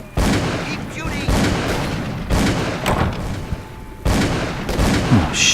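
Gunfire in the video game Call of Cthulhu: Dark Corners of the Earth, with several heavy, booming shots spaced about a second apart amid muffled in-game noise.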